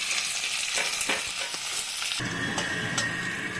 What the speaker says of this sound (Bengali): পেঁয়াজটাকে দিয়ে একটু ভালো করে ভাজবো, লাল লাল করে।